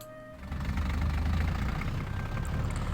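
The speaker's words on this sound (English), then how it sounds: "The diesel engine revved up and the bus departed." A diesel bus engine revs up and pulls away in a visual novel game scene, starting after a short quiet moment and then holding as a loud, steady low rumble with knocking texture to the end.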